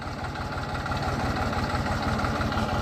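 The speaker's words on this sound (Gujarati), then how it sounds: "આવી રીતે ટ્રેક્ટર હાલે છે ધીમે ધીમે" A farm tractor engine runs slowly at a steady low idle, its even chugging pulse loud and close and continuing without a break.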